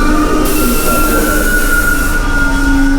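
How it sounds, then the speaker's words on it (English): Subway train arriving at an underground station platform, a steady loud rumble with a sustained high metallic whine and squeal from the wheels, continuous throughout. "Here comes our train."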